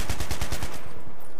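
Rapid bursts of machine-gun fire from the video game Battlefield 3, about six loud evenly spaced shots with a booming low end, fading into a short echoing tail.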